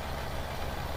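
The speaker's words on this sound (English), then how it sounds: "he's going down the hill in the tractor" A tractor engine in Farming Simulator 17 drones steadily as the tractor rolls down a hill, a continuous mid-to-low rumble with no talk over it.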